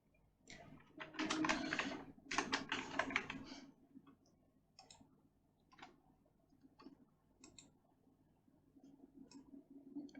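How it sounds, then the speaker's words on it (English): Keys pressed on a computer keyboard: a dense burst of rapid clicks early on, then scattered single taps at irregular intervals, close and fairly quiet over a faint background hum. "I just want to press any of the key of my keyboard and press"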